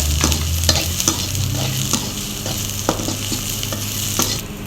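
Steady sizzling of onion and coconut sautéing in a hot pan, broken by repeated scraping stirring strokes; no voices.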